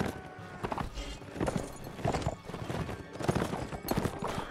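Horses in the video game Mount & Blade, rapid repeated hoof clip-clops with bursts of galloping and a neigh amid battle noise, loud and close in uneven waves.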